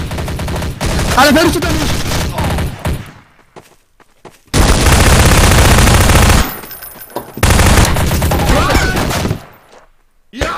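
Rapid automatic gunfire in the multiplayer shooter game Trouble in Terrorist Town, loud bursts that stop and restart, with a player speaking over parts of the shooting.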